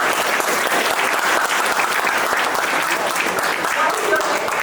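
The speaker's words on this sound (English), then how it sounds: "Clap for that child." An audience at an induction ceremony claps for a student, a dense and steady burst of applause from many hands, loud and sustained, with some voices underneath.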